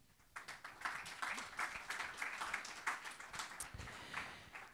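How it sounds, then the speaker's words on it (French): Audience applause at a community meeting of the Pau Béarn-Pyrénées agglomeration, a modest steady patter of many hands clapping for a few seconds, fairly distant and soft. "Vous l'applaudissez, s'il vous plaît."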